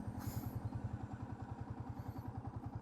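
A 150cc sports motorcycle engine idles at about 1,100 rpm with no throttle applied, giving a steady, even low thrum with regular pulses that stay close and constant throughout.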